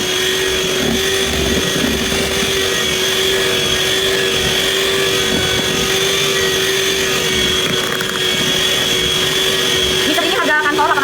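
An electric hand mixer whirs steadily while whipping batter for a rolled sponge cake made with glutinous rice flour. The motor drones loud and unbroken the whole time, with a high whine over it.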